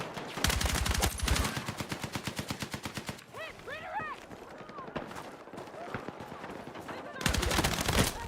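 An AK rifle fires in Counter-Strike 2 in loud, rapid full-auto bursts at the start and end, with a steadier string of single shots in between and faint game effects underneath.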